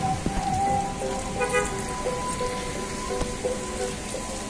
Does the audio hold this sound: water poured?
no